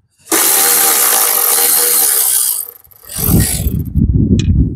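Ratchet wrench loosening an overtightened bolt on a car engine, a loud close burst of rapid clicking that runs for over two seconds, then a pause and a rougher, lower stretch of working noise.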